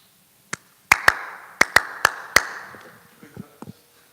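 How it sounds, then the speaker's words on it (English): A series of about seven sharp, loud hand claps in an irregular rhythm, made as an audio-visual sync clap at the close of a Srimad Bhagavatam lecture, followed by a few softer taps and faint sounds in a quiet room. "I'm doing my audio visual synchronization clap."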